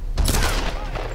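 A brief burst of rapid gunfire from Lara's weapon in the Tomb Raider video game, a dense crackling volley heard alone and fairly loud for about a second.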